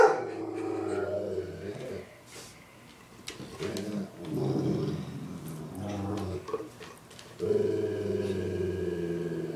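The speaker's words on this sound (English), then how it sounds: "This is why he is barking." A dog barks and yips at a zombie shown on a TV screen, with repeated close bursts in irregular runs and brief pauses between them.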